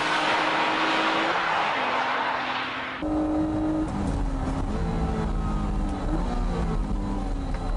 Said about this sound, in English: let's take the new Type S out for a spin and see how it's improved